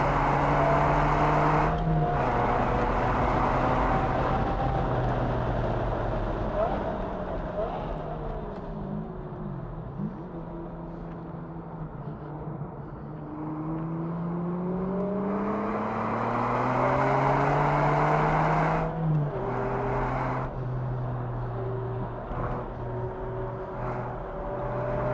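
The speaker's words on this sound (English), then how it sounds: "Bringing it down, holding it down, accelerating out" A 2000 Ferrari 550 Maranello on a race track, its engine heard from the cockpit braking down, then revving hard with rising pitch through successive gears, a loud continuous roar with wind and a few shift breaks.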